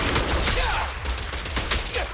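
Dense rapid gunfire in the action game Zenless Zone Zero, continuous overlapping shots and combat effects filling the short stretch at steady loudness.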